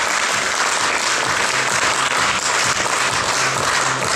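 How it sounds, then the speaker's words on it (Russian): Dense, loud applause from a theatre audience at a Culture Workers' Day celebration, a continuous roar of many hands clapping steadily throughout with no pauses. "Еще раз аплодисменты вам"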